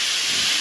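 Vegetables for fried rice hiss loudly and steadily in a hot pan as soy sauce and lemon juice hit the oil, a brief, dense, close burst of sizzling with no talk.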